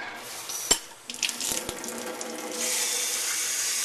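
Tap water running over a hot golf driver part during a Nike SQ-DYMO STR8-FIT reshaft: a couple of sharp clicks and clatters, then a steady close hiss of flowing water.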